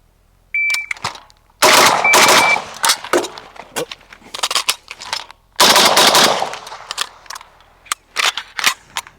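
A WASR 10/63 rifle on a competition course fires close, loud pairs of shots, with a pause for a reload and movement between them and metallic clicks and rattles around the bursts.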